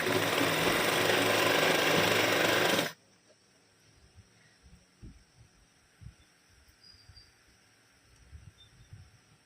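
A sewing machine stitches down a V neckline on a garment, running as a loud, steady mechanical rattle for about three seconds before stopping abruptly, leaving quiet handling clicks and soft taps.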